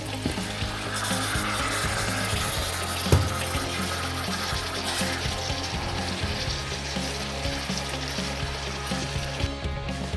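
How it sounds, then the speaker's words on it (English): Water is poured into a pot of goat curry frying on the stove, with a steady gushing and sizzling wash of sound up close and a low hum underneath. "Now we are going to add some water."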